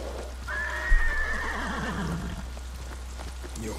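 A horse in Ghost of Tsushima gives a loud, rising-and-falling whinny with a snort, close by, over a steady bed of rain and low ambient rumble.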